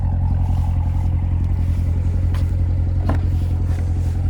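Exhaust of a 2017 Chevrolet Corvette Stingray 2LT Z51 idling close by, a loud, steady, deep rumble that holds evenly throughout with no talking.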